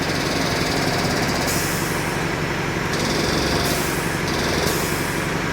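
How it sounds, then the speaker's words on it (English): A Hunter TC3700 tire changing machine spins a wheel while its roller knocks off the top bead, giving a steady, loud mechanical rumble and grinding with no pauses. "So let's go ahead and knock off this top bead real quick."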